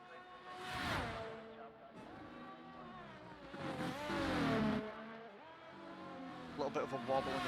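A race car in a Formula-style racing game at the Austria circuit sweeps through the final corner, its engine revving up and down through gear changes with a brief tyre squeal, while a commentator talks over it.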